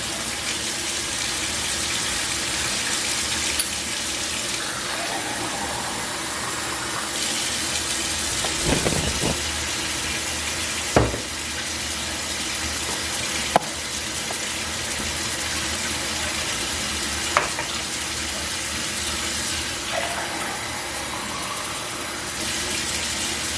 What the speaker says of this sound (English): I have to fill that up with some more water